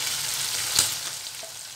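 Prawns frying in hot oil in a pan for chingri malaikari give a steady, close, hissing sizzle throughout, with one brief clatter partway through.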